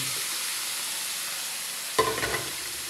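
Washed pork dropped into a hot pan of golden garlic and onion, a quiet steady hiss suddenly bursting into louder sizzling and crackling in the last second, with a few stirring clatters.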